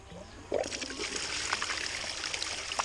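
Clean water starts running from a pump during gold prospecting, a steady trickling and splashing flow that begins abruptly about half a second in and continues close by at moderate level.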